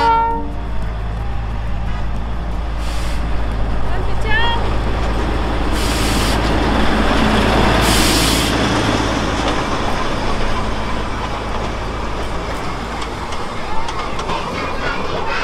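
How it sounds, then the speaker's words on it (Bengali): Darjeeling toy train pulling into the station, a steady rumbling train noise throughout with brief horn-like toots partway through, heard amid busy ambient crowd noise. "আর এই টয় ট্রেনটা যখন ঢোকে"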